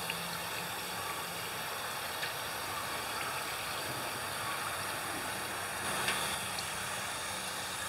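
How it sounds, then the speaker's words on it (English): Running tap water rinsing a freshly butchered chicken, a steady broadband wash of water with slight shifts in flow and no pauses, fairly quiet throughout. "Rinse this out."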